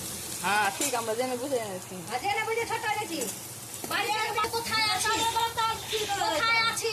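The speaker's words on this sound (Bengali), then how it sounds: "দুটো পেঁয়াজ কুচি করে তেল গরম করে এটাকে হালকা করে নরম হওয়া পর্যন্ত ভেজে নেব।" Chopped onions and garlic frying in hot oil, a sizzle running beneath someone talking almost throughout, with small stirring clinks.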